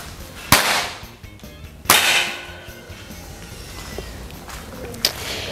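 Air rifle shots fired at a target during a shooting contest: two sharp, loud cracks about a second apart, followed by quieter clicks and a fainter snap near the end.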